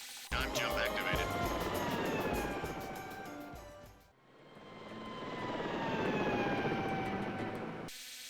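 Simulated fixed-wing airplane touching down in the game SAR4, a loud steady engine roar with whining tones that swells, dips briefly midway, then builds again before cutting off.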